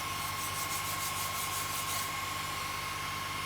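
Laser-engraved paint being scraped off a tile, a steady close rasping scrape that fades after about two seconds, over a constant electrical hum.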